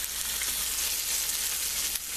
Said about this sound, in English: You hear that sizzling, and you see it sizzling like this, that's the correct temperature.